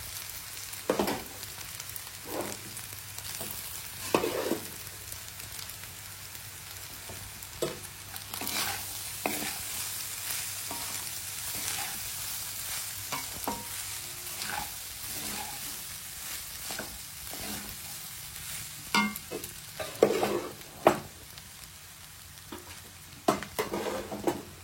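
Rice and vegetables stir-fried together in a pan for veg fried rice: repeated scraping stir strokes over a steady background sizzle, close and moderately loud, with no talking.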